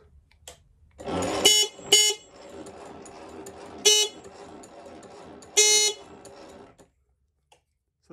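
Horn on a vehicle running a 4QD speed controller, sounded in four short loud honks over a low hum from the setup, which cuts off at the end.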